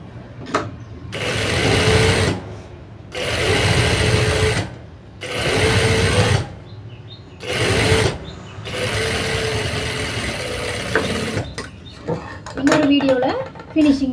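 A sewing machine stitches the back and front panels of a blouse in several bursts of rapid mechanical whirring, separated by short pauses, with a person talking between and over the runs.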